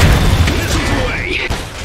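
Missile explosions in the video game Iron Harvest, Usonia campaign: dull, low booms and thuds rumble steadily throughout, with a rising whoosh near the end, under game voices.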